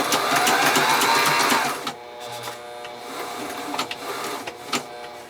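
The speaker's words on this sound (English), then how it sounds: "we'll drop the presser foot. The first part's pretty easy because we've already sewed it once." A sewing machine stitches fabric pieces together in a fast, even whirring run, then stops and gives a few short bursts and clicks, close and alone.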